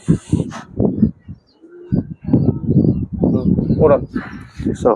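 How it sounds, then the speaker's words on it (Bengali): Pakistani High Flyer pigeons coo softly and repeatedly, nearby, mixed with someone talking over them. "তো ভাইয়ের এই কবুতর জোড়া যদি কেউ পছন্দ হয়"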